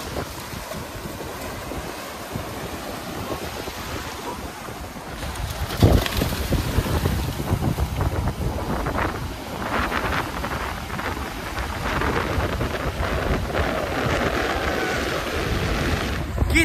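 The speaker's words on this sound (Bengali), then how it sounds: "আর বকখালির এই এত সমুদ্রের ঢেউ" Ocean waves rolling in at Bakkhali beach on a sunny day, a continuous loud wash of surf mixed with gusty wind buffeting the microphone, no voices heard.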